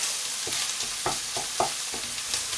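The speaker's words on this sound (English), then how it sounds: "I just want to keep that going until the onion softens a bit in the butter" Onion frying in butter, a steady soft sizzle beneath scattered light scrapes of a utensil stirring the pan, recorded close with no talk.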